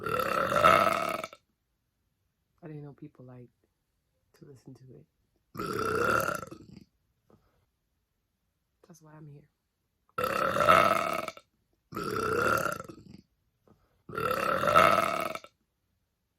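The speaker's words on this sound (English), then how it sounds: "To share my burps with the world." Five loud, drawn-out burps ring out close to the microphone, each followed by silence, with short bits of a speaking voice in between.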